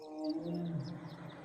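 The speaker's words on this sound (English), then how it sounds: "Their roars echo for miles." Lions roar into the night, a deep, drawn-out call rising and falling over about a second, sounding close and alone with no other noise around it.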